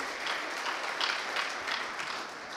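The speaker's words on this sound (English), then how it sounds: "A round of applause, please, for Meru High School." Audience at a school debate knockout contest claps for Meru High School with a soft, continuous patter of many hands from some distance.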